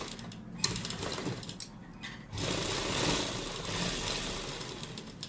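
A sewing machine stitches pearl lace onto a suit in short bursts, quiet and close, with a brief pause before a longer steady whirring run of the needle.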